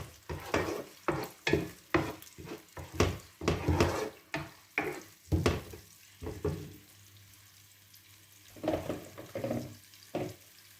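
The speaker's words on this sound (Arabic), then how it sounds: "بعد ما تشحرات لينا البصله غادي ننزلو بمطيشه" Onion, garlic and grated tomato fry in a pan for paella, with a spoon scraping and stirring in quick rhythmic strokes over a soft sizzle, then a short pause before more stirring.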